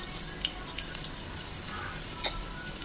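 Garlic frying lightly in hot oil in a kadai for egg fried rice, a steady close hiss with faint crackles and a few light clicks, no voices heard.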